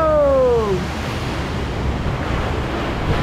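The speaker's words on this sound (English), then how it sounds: "We might have got some big splashes." Water crashes and splashes on a theme park water ride, a loud rushing wash with strong wind buffeting that follows a brief tonal whine at the start.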